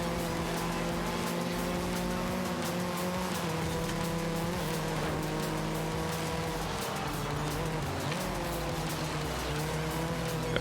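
A Honda car engine in the racing game Forza Horizon 5 revs and accelerates with rising harmonic tones and a sustained, loud drone, with some tire noise and no talking.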